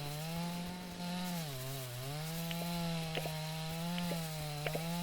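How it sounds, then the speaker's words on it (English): Droning chainsaw from the Dinkum video game cutting through farm plants, its pitch dipping and rising again, with light clicking chops sprinkled over the steady buzz, close and continuous. "Use that chainsaw."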